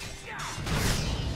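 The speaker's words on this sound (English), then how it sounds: "Here's the sound of fighting." Brief sword combat from the video game Neverwinter: a quick swoosh, then a sharp metallic clash and scuffle of a fight against fighters and an orc brute, close and fairly loud over a steady game background.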